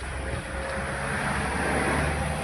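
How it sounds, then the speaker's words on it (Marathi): Heavy vehicles pass along a highway very close by, a steady loud roar of engines and tyres that fills the whole moment without a break, with no voices over it. "मोठमोठे गाडी जातात इकडनं म्हणजे हायवे अगदी जवळ असल्यामुळे"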